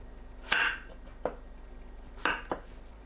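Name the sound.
slicing king oyster mushrooms thickly with a knife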